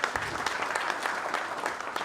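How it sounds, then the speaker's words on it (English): An audience at an outback concert applauds with dense, steady clapping that fills the whole moment, loud and close, with no voices over it. "Would you give them a round of applause?"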